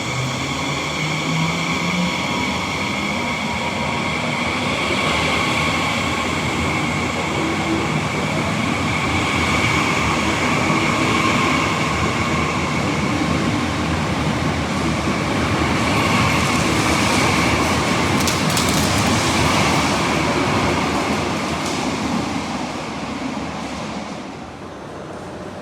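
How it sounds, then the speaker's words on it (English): A Trenitalia Express train of the Rossa brand pulls out of Turin Porta Caesar toward Milan Central, its steady loud rumble and rail noise filling the whole stretch before easing slightly at the end; no one speaks. "Here is this Trenitalia Express train"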